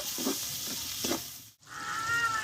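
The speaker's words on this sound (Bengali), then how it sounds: "একসঙ্গে ভালোভাবে মশলাটা আমি কষে নেব" Spices with ground cumin sizzle steadily in hot oil as they are sautéed for a Bengali potato curry, a close frying hiss with soft stirring scrapes and one brief cut-out.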